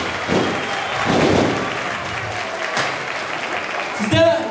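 A village crowd applauds the headman at a welcome gathering in a Turkish village, bursts of clapping rising and fading over a few seconds, followed by a short thud and a voice at the end.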